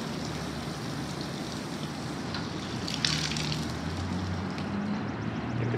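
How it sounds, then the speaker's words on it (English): Water rushes steadily through the heating coil of a hot water pressure washer being flushed, a constant gushing hiss at moderate level with a slight surge midway. "Now we'll go ahead and flush the coil on a hot water unit."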